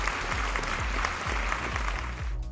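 Audience applause at a Vietnamese weekend challenge game show, honoring the three competing teams; dense, steady clapping from a live studio crowd fills the whole stretch and fades slightly at the very end.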